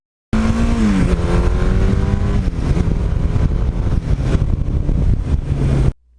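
A 1982 Suzuki GS1100E motorcycle rides along, its engine droning loud and close with a steady tone that dips as the rider shifts, then cuts off abruptly at the end.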